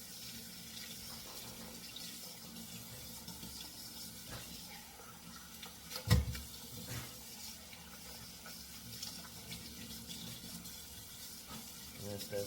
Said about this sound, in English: Rinse them off real good.